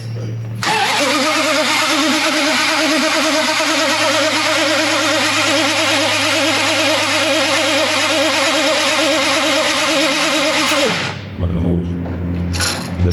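A Dodge Daytona wing car's engine fires up loud and close, then runs and revs steadily with a rough, throbbing rhythm for about ten seconds before cutting off, with brief voices at the end.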